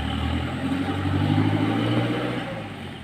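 A car engine hums steadily while driving on a road toward a village, with a low, even drone that swells slightly midway and eases off near the end. No voices are heard.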